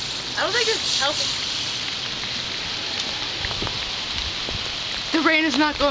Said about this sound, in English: The rain is not going away.